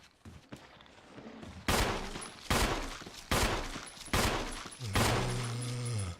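Jill's gun firing at enemies in Resident Evil HD Remaster: four loud, booming shots spaced roughly a second apart, each with a decaying echo, followed by a lower ringing tone, with no talking.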